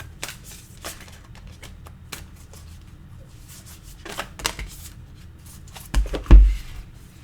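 Tarot cards shuffled by hand in a soft, rapid riffling run of papery flicks, ending in a few louder taps and thumps as cards are drawn and set down, with no talk.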